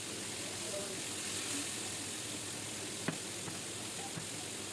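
Fish frying in oil in a pan as the pieces are turned, a steady soft sizzle and hiss, faint and continuous, with a single sharp clink partway through.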